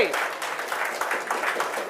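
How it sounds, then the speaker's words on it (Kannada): Applause for the winner of a lucky draw prize: a dense, steady clatter of many hands clapping, loud and close, lasting under two seconds. "ಜೋರಾದ ಚಪ್ಪಾಳೆ"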